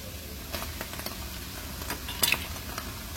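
Chopped onion drops into a pan of drained, browned ground beef over medium heat, followed by soft sizzling and a few scattered utensil scrapes and taps against the pan.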